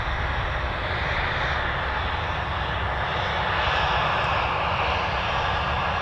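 Eurofighter Typhoon jet taking off at RAF Coningsby, a loud continuous engine roar holding steady throughout, without pause.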